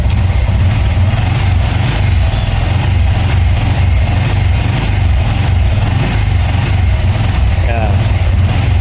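A Honda RSX 110 motorcycle with full-wave wiring runs loud and close at night, its engine droning heavily and rising in revs with no pause, while headlight and driving lights are on.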